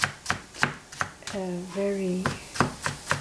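A knife chops potato and celery on a board in steady, crisp strokes, about ten evenly spaced cuts, briefly interrupted by a short spoken word midway.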